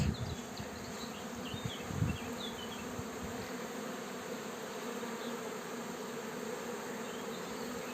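Honey bees hum at an apiary being readied for the linden bloom, a dense continuous buzzing drone from many insects, with a few louder close passes and rustles early on.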